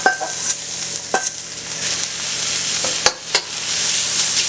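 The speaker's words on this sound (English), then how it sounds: "Now what we'll do is scrape in our shrimp." Raw shrimp scraped into a hot pan and stirred for beignets, giving a steady close sizzle of frying with sharp scraping clicks of a utensil against the pan at irregular intervals, with no voices.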